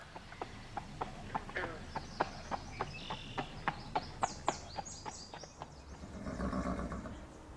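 A mother horse and her foal whinny over a steady run of hoof clops, with a neigh rising late in the sequence before a low snorting, breathy sound ends it; fairly close and clear.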